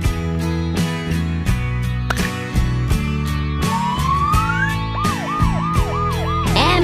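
An animated toy ambulance siren whoops up and down in repeated cycles over upbeat background music, loud and steady.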